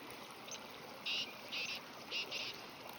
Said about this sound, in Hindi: पानी की आवाज़ सुनिए कितनी अच्छी लग रही है, और ये चलता पानी भी।